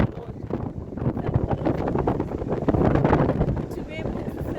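Strong wind on Bloubergstrand beach in Cape Town buffets the microphone with a loud, continuous roar that gusts unevenly throughout.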